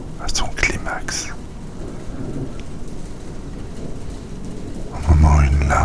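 Thunder from a storm, deep rumbles rolling under steady rain, with a louder crack near the end, while a voice speaks softly over it.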